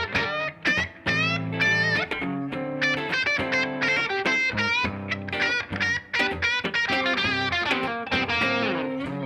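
Electric guitar with its pickups switched to an out-of-phase position 2 setting, played as a loud, continuous run of bright, thin-toned notes and chords with a hollow, nasal character and effects-laden sustain.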